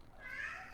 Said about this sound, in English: he always has to come on and have a meow in the background